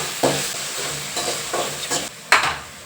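Hot oil sizzling in a pan as semolina is added and stirred, a steady close hiss with several louder scraping surges, no talking over it.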